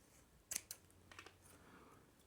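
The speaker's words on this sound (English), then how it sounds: "Give it a little snip." Scissors give two quick close snips through paper, crisp and clear against a quiet room.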